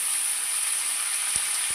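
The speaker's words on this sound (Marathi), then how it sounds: "कांदा आणि टोमॅटो एकत्र असं फोडणीला देऊन मस्तपैकी लाल करून घेऊया" Onion and tomato sizzle in hot tempering oil for a sprouted moth bean misal: a steady, close, bright hiss runs throughout, broken by two soft low thumps near the end.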